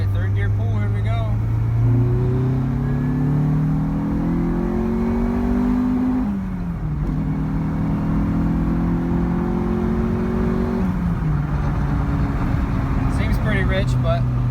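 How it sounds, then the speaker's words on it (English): A Honda CRX with an all-motor B17 engine and Skunk2 Ultra Street intake revs hard through a third gear pull, pitch climbing steadily, dropping at a shift, then climbing again, loud and close with people talking over it. "All right, third gear pull, here we go."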